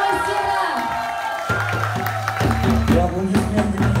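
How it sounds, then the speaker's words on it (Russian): Audience applause and cheering for doira drum masters at a drumming festival, a crowd clapping and whooping under a loud tonal musical drone and amplified voice. "Так еще раз всем-всем бурные аплодисменты нашим мастерам!"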